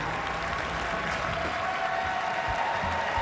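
Crowd at a 2016 presidential election night rally applauding steadily and continuously, a dense wash of clapping with faint voices mixed in, fairly distant and even in level throughout.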